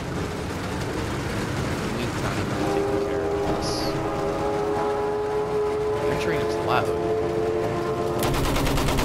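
In Battlefield 1, an armored train rumbles and clanks amid bursts of machine-gun fire, with a sustained low mechanical tone and scattered battlefield crackle under a nearby voice.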